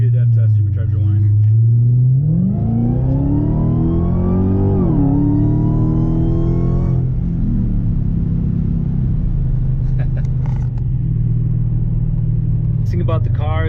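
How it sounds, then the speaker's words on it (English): Heavily modified Dodge Hellcat accelerating on the road, engine rumble climbing in pitch with a rising supercharger whine, loud and close from inside the car, then settling to a steady cruise while someone talks over it. "Hopefully you can hear that supercharger whine."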